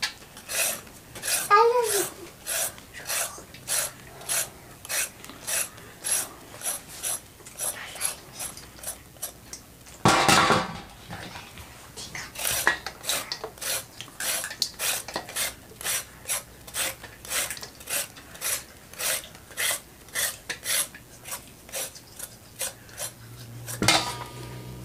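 Carrots being peeled by hand for carrot halwa, a steady run of quick rasping strokes, close and fairly loud, with a brief louder clatter partway through.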